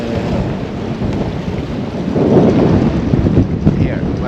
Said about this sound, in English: just when we docked, the wind picked up even more